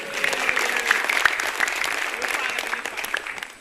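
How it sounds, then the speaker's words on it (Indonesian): Audience applause at a televised stand-up comedy show, a steady wash of clapping from a crowd that holds for the whole stretch, with occasional louder claps standing out near the front. "Tepuk tangan buat Kementerian Agama."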